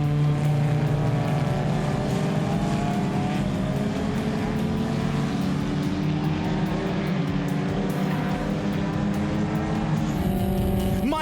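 Race cars lapping a circuit, one driver overtaking another between turns 3 and 4, a steady loud engine roar that holds throughout, with a brief rising whine near the end as a car passes close.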